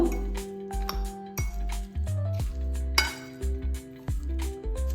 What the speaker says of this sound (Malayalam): നമ്മൾ ഈ മുട്ട ഇതിൽ മിക്സ് ചെയ്യുന്നു.